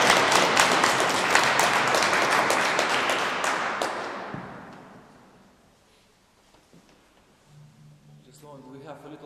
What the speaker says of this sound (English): Applause for Martin.